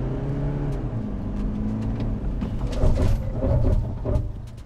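Toyota Fortuner facelift 2024 with the 2.8 diesel engine accelerating in drive, a steady engine drone heard from inside that swells louder partway through, with some interior clicks.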